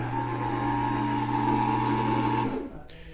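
Valve grinding tool with a chuck spinning an engine valve from a Honda CRX GSR engine, a steady motor hum that runs evenly and then spins down near the end.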